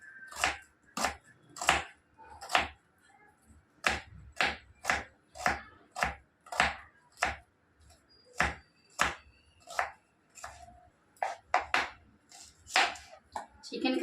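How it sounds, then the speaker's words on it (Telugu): Knife chopping onions and green chillies on a board for chicken curry, a series of crisp, close, evenly spaced chops with brief pauses between bursts. "చికెన్ కర్రీలోకి ఉల్లిపాయలు కట్ చేసుకుంటున్నాను."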